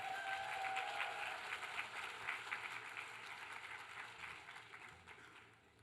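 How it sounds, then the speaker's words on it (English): Audience applause at a university MLK luncheon, a steady broad patter of many hands clapping, moderately distant, gradually tapering off over about six seconds. "Give her a round of applause, ladies and gentlemen"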